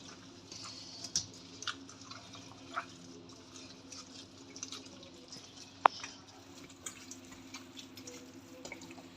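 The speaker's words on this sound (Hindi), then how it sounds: "इसको मैं हाथ की मदद से मिक्स करूँगी ताकि ये अच्छी तरह मिक्स हो" Raw chicken being mixed by hand with garlic and ginger paste for a Pakistani steam roast: soft, wet squelching and light handling noises at close range, with a few small clicks and one sharp knock.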